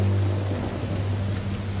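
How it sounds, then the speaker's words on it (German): Steady rain pours in a thunderstorm in the survival video game The Forest, with a deep low rumble of thunder running underneath the dense hiss of falling drops, with no talk. "So, direkt Gewitterchen dabei."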